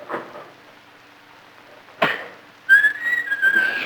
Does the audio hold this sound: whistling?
yes